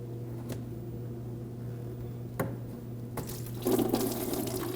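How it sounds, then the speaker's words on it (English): Washer fluid drains from the reservoir of a 2013-2015 Subaru XV Crosstrek after its pump is pulled off. A steady trickle runs over a low hum and grows into a louder splashing flow near the end, with no talking. "And to drain the reservoir itself, we're just going to pull the pump off."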